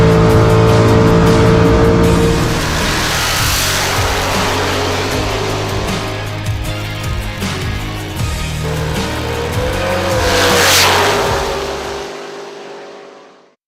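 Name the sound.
drag racing cars at a bracket race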